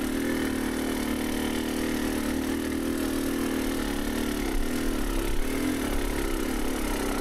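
Motorcycle engine fitted with an XTNG GEN3+ carburetor running steadily in first gear without the clutch, a continuous low, even drone close by with no talk over it.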